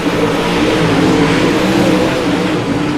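Racing cars in a video game, a loud continuous engine drone with overlapping revving tones sustained evenly for the whole few seconds, close and dominant with no talk.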